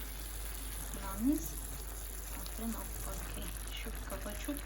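Zucchini spaghetti stewing over low heat in a pan, giving a soft, steady bubbling sizzle beneath a voice speaking throughout.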